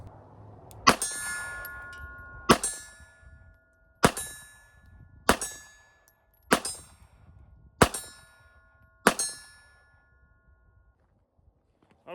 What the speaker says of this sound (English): let's see if we can shoot a mag full and have some reliability.